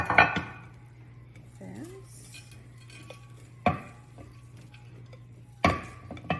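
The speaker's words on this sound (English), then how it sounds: "then I'm going to push it into the bottom of the pan" Scotcheroos Rice Krispies mixture is pressed into the bottom of a pan: a few sharp clinks and scrapes of a utensil against the pan, separated by quiet pauses, over a faint steady hum.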